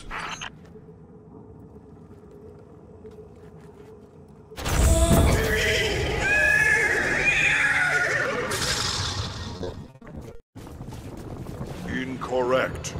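A horse whinnies loudly and near, a long wavering neigh that rises out of a quiet background and ends in a brief break, followed by further noise.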